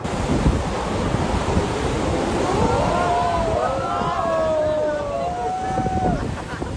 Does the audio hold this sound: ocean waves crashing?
yes